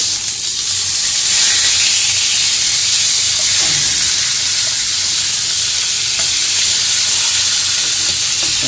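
A steak sizzles and fries steadily in a hot pan, a continuous broadband hiss with occasional stirring or shifting sounds, close and fairly loud throughout with no talking.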